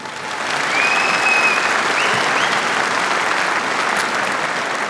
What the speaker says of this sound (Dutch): Mag u ook een extra applaus voor geven.